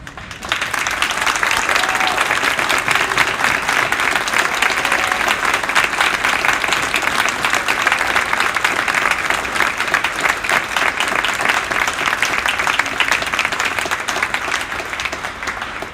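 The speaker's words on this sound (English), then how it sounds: "give you a round of applause" A full audience at a high school band concert applauds the seniors, dense steady clapping sustained for about sixteen seconds at strong volume, tapering slightly at the end.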